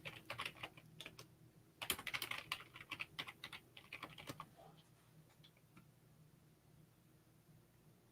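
Bursts of keyboard typing, quick irregular clicks clustered in the first half, then tapering off to a quiet room hum.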